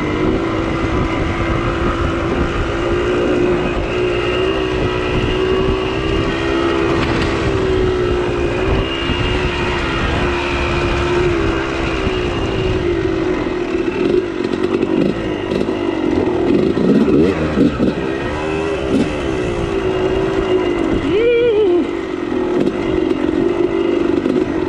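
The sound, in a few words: motorcycle riding past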